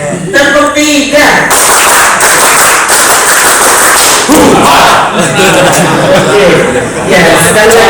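Audience at a national mosque seminar in Indonesia claps together on cue in a loud, sharp mass burst of hands, with someone speaking before and shouting voices mixed in.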